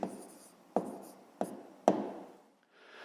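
A pen scratches across paper as a division answer is written down in a fifth-grade maths exercise. Four close strokes each start with a tap, then trail off, and soft rustling follows.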